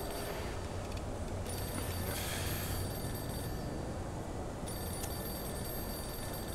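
A telephone rings in Mafia II, a steady electronic bell repeating over a dense, noisy game backdrop, fairly quiet and continuous throughout.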